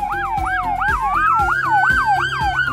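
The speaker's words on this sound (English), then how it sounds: "a powerful 200-watt dual-tone siren" A SoundOff Signal 200-watt dual-tone police siren blares loud and close, with two overlapping tones, one whooping rapidly up and down in quick cycles while a second rises slowly and steadily beneath it.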